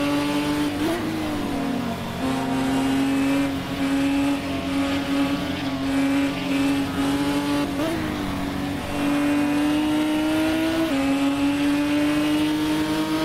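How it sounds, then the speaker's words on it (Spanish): Race car in Assetto Corsa on the Rafaela circuit, sliding through a curve with a loud sustained engine drone, pitch dipping and climbing as it rides the slide, alone and close. "Muy difícil esa curva, como va de cola el auto desliza."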